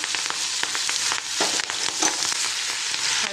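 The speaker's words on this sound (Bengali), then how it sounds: "রসুনটা অতক্ষণ ভেজে নেবো যতক্ষণ না তেলের ওপরে ভাসছে রসুনটা" Chopped garlic and green chili fry in hot mustard oil in a kadai, giving a loud, close, continuous sizzle dotted with small pops and crackles.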